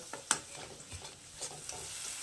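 Spices and masala stir-fried in a pan for a Bengali flat-bean curry, soft scraping stirs and light sizzling in a few separate bursts, fairly quiet and close, with no talking.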